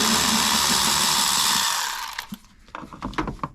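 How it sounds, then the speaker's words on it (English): A 10 mm bolt comes out of the valve cover on a 4.0-litre Nissan V6, a loud sustained whirring of a power tool that cuts off, followed by scattered metallic clicks and knocks close by. "First thing we're going to do is remove these two bolts up here on this cover."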